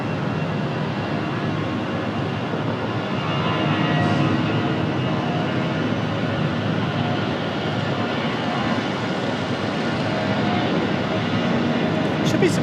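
Jet airliner departing Raleigh Durham airport, a loud steady broadband roar that persists throughout, with talk faintly beneath it.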